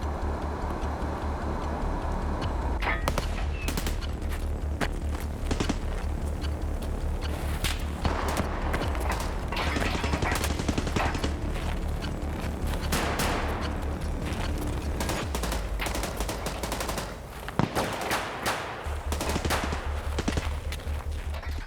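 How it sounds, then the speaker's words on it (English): Shotgun, rifle and suppressed rifle fire ring out from a distant base in the Escape from Tarkov video game. Rapid cracks and thumps sound continuously over a steady background rumble, with no talking. "There's a shotgun, a normal rifle, and a silent suppressed rifle going off at the same time"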